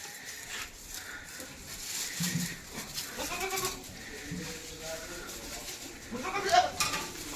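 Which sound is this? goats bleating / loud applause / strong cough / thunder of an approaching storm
goats bleating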